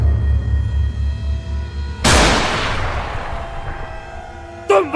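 Gunfire in the Evil Dead horror movie: one loud, sharp blast that decays into a long rumbling tail, then a second short crack a few seconds later, with no voices.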